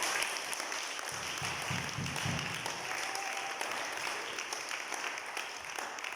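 A church congregation at a seminary applauds and cheers the Lord, steady clapping sustained throughout over a background of music and crowd noise, fairly distant and diffuse.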